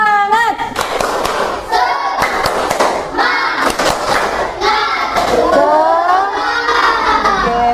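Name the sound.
class doing a rhythmic 'spirit clap' (tepuk semangat)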